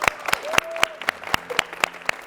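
A handful of sharp, evenly spaced hand claps, about nine in all, ring out clearly in a quiet room as a small tribute to the dancers of a Montreal ballet company.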